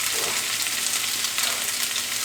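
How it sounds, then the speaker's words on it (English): A pancake and hash browns frying on a hot griddle give a dense, steady, close sizzle that hisses evenly throughout with no voices. "Pancake still cooking."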